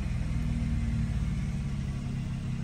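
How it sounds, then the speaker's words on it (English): A BMW 420i M Sport Gran Coupe, facelift model with about 31,000 miles, idles steadily nearby, its engine giving a constant low rumble without variation or voices. "With the car fired up then"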